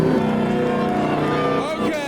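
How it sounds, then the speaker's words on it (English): A Ford Mustang in Martini livery revs hard and loud at a rev battle, its engine note holding high and steady close by, with crowd voices underneath. "This Mustang sounds like it's going to absolutely destroy us and everything around it."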